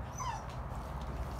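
Woland breed puppies give a faint, brief whimpering whine while with a wolf in the Northern Wolf Park, over steady low background rumble.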